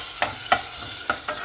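Onions frying in a pan for ridge gourd curry, with four quick scraping stirs of a spatula against the pan over a faint sizzle, close by.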